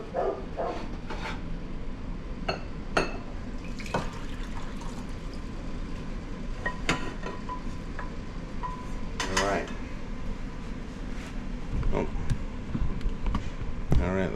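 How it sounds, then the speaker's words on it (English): Boiled cattail shoots set into a clear bowl, a few light clinks and knocks of glass and utensils among shuffling handling noise, with a voice talking now and then. "And I'll put it in this clear bowl again."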